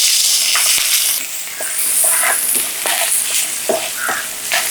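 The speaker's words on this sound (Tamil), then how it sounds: "பச்சை கொச்சிக்காவும் பூண்டும் பட்டரில் நல்லா வறுத்துட்டு இருக்கி" Green chilli and chopped garlic fry in butter in a pan for a Japan chicken gravy, giving a loud, close, steady sizzle with brief stirring scrapes and no voices.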